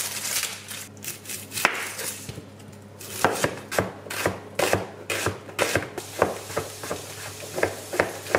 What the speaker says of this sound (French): Et après je vais venir couper mes légumes.